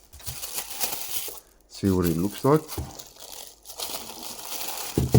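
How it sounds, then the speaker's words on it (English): Plastic wrapping around a Logitech MX Keys S backlit keyboard crinkles and rustles in quick bursts close by, with a person speaking briefly between the crackles. "We'll just unwrap it here."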